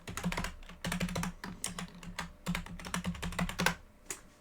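Computer keyboard typing a password at a terminal: rapid clusters of crisp key clicks in uneven bursts, close and fairly quiet, with short gaps between runs.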